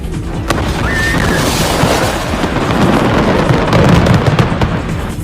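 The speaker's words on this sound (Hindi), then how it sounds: "कुछ ही सेकंड में पूरा का पूरा मकान धमाके से उड़ गया।" A dense, rumbling roar of explosions and crackling bursts as a house blows up, loud and sustained, with sharp pops scattered through the noise.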